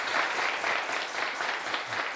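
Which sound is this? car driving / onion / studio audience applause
studio audience applause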